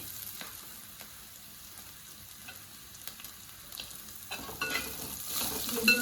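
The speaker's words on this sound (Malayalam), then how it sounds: "വെളുത്തുള്ളി ഇഞ്ചി എല്ലാം ഒന്ന് വാടി വരുന്ന സമയത്ത് നാളികേരക്കൊത്ത് ആടും." Garlic, ginger and coconut pieces sauté in a pan with a soft, crackling sizzle that stays quiet at first, then grows louder and denser toward the end.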